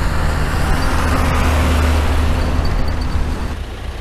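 A John Deere 6000 Hagie sprayer driving across a field, its engine a steady loud drone with a low hum, running continuously and easing slightly toward the end.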